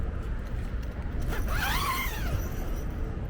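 A zipper on a tent-style cover is drawn in one quick pull lasting under a second, close and fairly clear over a low steady background hum.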